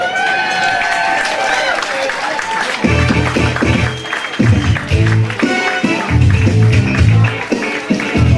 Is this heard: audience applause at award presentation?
yes